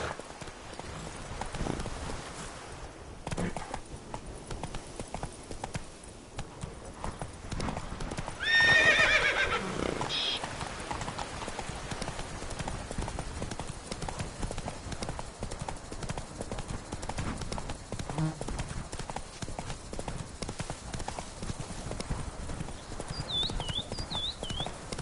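Horse hooves clip-clop at a gallop in the video game The Witcher 3, a faint rapid rhythmic patter throughout, with a short whinny partway through and quiet background game ambience.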